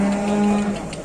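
A single low, drawn-out moo from a nearby white cow, loud and steady before trailing off.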